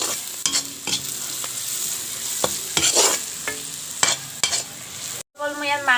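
Turmeric hits hot oil in a pan that already holds browned onion and ginger-garlic paste for chicken curry, giving a steady close sizzle with repeated stirring scrapes and no talk.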